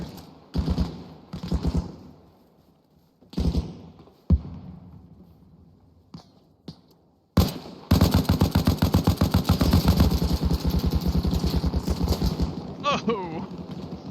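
An MG gunner fires from a support-by-fire position during joint squad training, a few short opening bursts followed by a long, dense, sustained rattle of rapid shots, close and loud, with voices talking around it.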